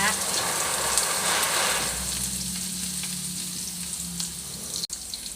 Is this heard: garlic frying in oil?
yes